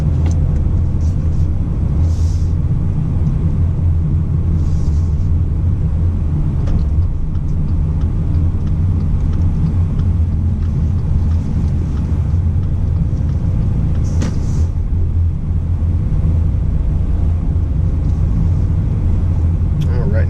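2019 Subaru Crosstrek driving slowly down a narrow dirt path, heard from inside as a constant loud low road and engine rumble, with someone talking over it throughout.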